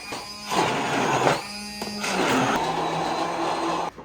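A kitchen blender purees roughly chopped peppers with about a cup of milk and a couple pinches of salt, a loud steady whir that surges and dips in a few bursts over several seconds before cutting off.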